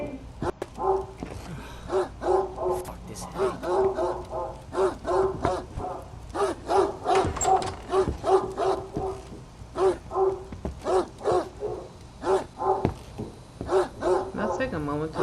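A dog barks repeatedly in the horror video game Greyhill Incident, a steady series of sharp barks through the whole stretch with a voice talking over it.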